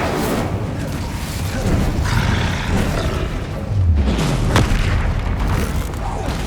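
Confringo spell explosions in Hogwarts Legacy on PS5, deep rumbling booms and roaring blasts layered over continuous game noise, loud and dense, with a voice partly heard beneath.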